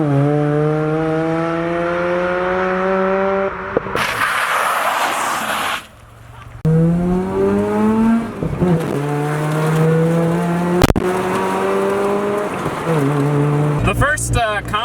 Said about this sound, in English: The most obvious pro of a rotary is BRAP.